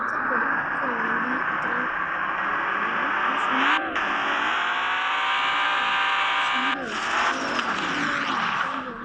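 A modified Bugatti in a driving game set to drift mode, a sustained engine drone with shifting revs and brief dips, heard through speakers with a voice talking over it.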